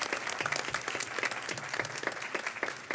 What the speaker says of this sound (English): Please, everyone, give a round of applause to all of our fantastic speakers.